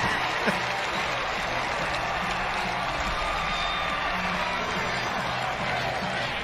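A large outdoor crowd at an NCAA men's lacrosse quarterfinal between Army and Penn State keeps up a sustained roar of cheering and applause, dense and even throughout, with a brief louder burst near the start.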